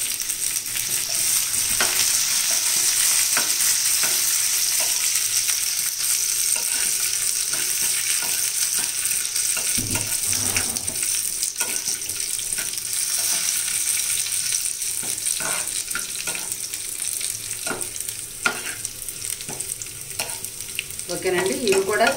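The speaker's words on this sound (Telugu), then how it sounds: "ఇప్పుడు ఈ ఎండు మిరపకాయ ముక్కలు వేసుకుంటున్నానండి" Dry red chilli pieces and curry leaves crackling in hot oil with already-browned onions as a tempering for a sweet pumpkin curry, a dense steady sizzle broken by scattered pops and stirring scrapes, close and fairly loud without speech.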